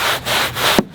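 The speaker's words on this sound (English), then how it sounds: "just me in the brush, just scrubbing" A brush scrubs a surface in short, quick back-and-forth strokes, close up and fairly loud, with a sharp knock at the end of the last stroke.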